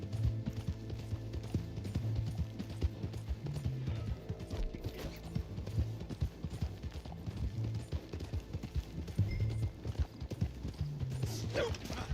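Horse hooves clip-clop in a steady, rapid rhythm in the video game Red Dead Online, continuous and close, with occasional faint neighs and game ambience and no talk.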